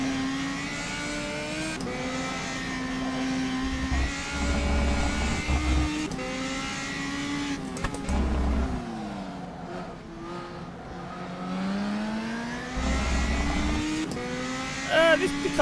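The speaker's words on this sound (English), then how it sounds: "the actual exhaust popping that this car makes is actually quite similar to the real Radical" Radical race car with a motorbike-derived engine in rFactor 2, engine droning and revving through gear changes with exhaust pops, steady and close throughout, a voice talking over it.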